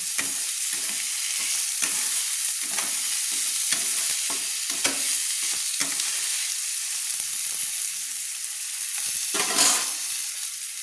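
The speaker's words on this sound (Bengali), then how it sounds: "কুচানো কাঁচা লঙ্কা দিয়ে নেড়ে নিচ্ছি" Vegetables and chopped green chilies stir-fry in a hot pan for chow mein: a constant close sizzle broken by regular scraping strokes of a spatula, with no voices.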